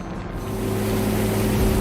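Steady drone of a Highfield Sport 460 motorboat engine running over water, loud and continuous with rushing wash and wind noise, no voices.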